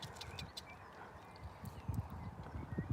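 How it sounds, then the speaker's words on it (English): Horses clop along outdoors on an evening hillside, a faint, irregular patter of hooves at some distance beneath breezy ambient noise, the steps growing slightly louder toward the end. "Oh, there's horses there."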